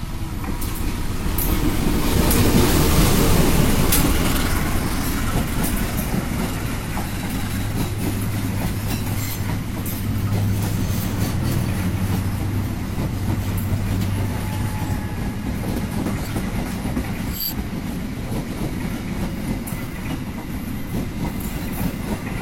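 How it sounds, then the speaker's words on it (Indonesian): The Logawa passenger train rumbles steadily past nearby, its wheels clattering rhythmically over the rails for a long stretch, loud and continuous with no talking. "Ini dia kereta api Logawa."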